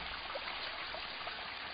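A continuous, faint trickle of a flowing water stream, soft and steady with light bubbling, alone without any voices.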